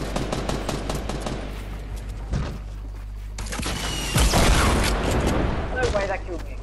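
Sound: gunfire from the video game Fortnite

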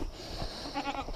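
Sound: goats bleating

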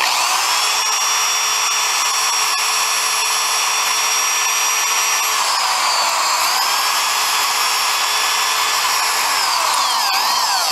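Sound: drilling a pilot hole through an Alpha 1 Gen 2 bearing carrier

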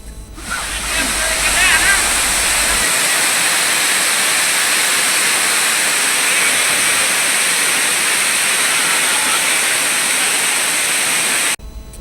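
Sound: waterfall in Nallamala forest, Kurnool

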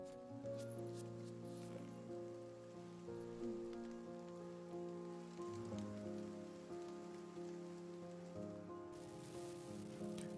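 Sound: rain falling on street in video game

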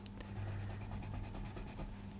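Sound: Tombow Irojiten colored pencil swatching on paper

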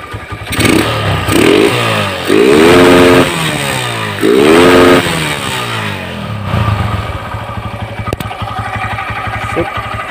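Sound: motorcycle engine running

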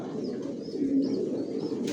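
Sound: pigeons cooing in a loft

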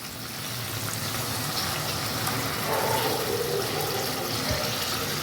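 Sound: pouring a little water into potol kasundi pan

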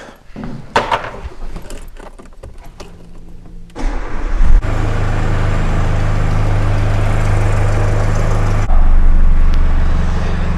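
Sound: car engine started and idling after oil change

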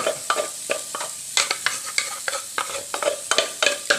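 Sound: stir-frying curry paste in a little oil

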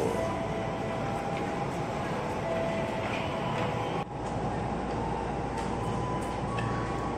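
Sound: commuter electric train passing

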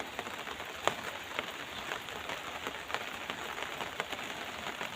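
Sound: heavy rain falling

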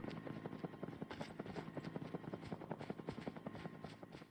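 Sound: helicopter in video game

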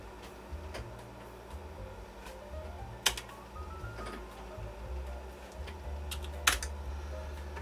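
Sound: floppy disk drive writing an MS-DOS boot diskette

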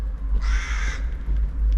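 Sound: crow cawing

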